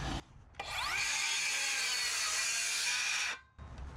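Circular saw plunges down into wood sheeting, rising from a brief spin-up to a steady high whining cut for about three seconds before stopping abruptly, close and alone without talk.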